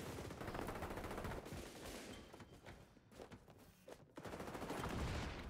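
Rapid automatic gunfire in the XDefiant beta, dense sustained bursts with short gaps and a few sharp single shots, loud and close.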